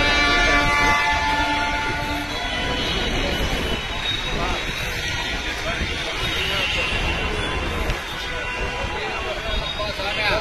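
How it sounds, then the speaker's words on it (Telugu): Suburban local train pulling into a crowded Bengaluru station platform, a loud continuous rumble of wheels and carriages with a possible horn, under steady crowd noise and nearby talk. "ఇటువైపు కూడా ఒక లోకల్ ట్రైన్ అయితే వస్తుంది ఇప్పుడు."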